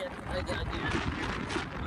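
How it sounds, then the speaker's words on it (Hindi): Strong wind buffets an outdoor microphone in loud, steady gusts of broadband rumble throughout, with a voice speaking over it. "देखो कितनी तेज़ हवाएं चल रही है"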